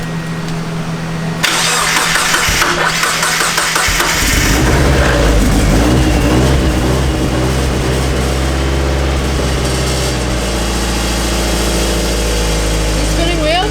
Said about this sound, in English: Officially got a full exhaust. I'm so tired, but I'm so excited to hear this thing.